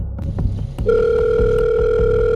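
A telephone rings with a steady, loud electronic tone after a brief burst of clatter, continuing without pause.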